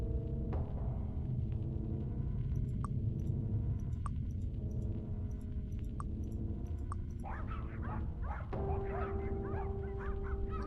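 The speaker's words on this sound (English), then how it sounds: "I hear a dog." A dog in Goosebumps The Game barks several times at a steady spacing, fairly faint and muffled, over a low droning background with no talking.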